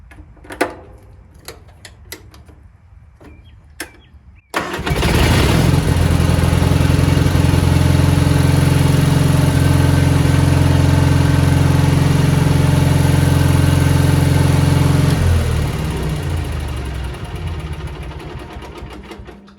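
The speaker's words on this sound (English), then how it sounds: "It is now time to test our newly installed ignition switch." A 1987 Gravely mower engine is tested after an ignition switch replacement: a few clicks, then it fires and runs with a loud, steady close drone for about ten seconds before winding down.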